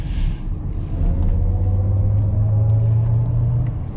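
A 2025 Cadillac Escalade IQ electric SUV pulls from 35 to 60 mph, with a steady low road and tire rumble and a faint rising electric motor whine heard from inside the cabin.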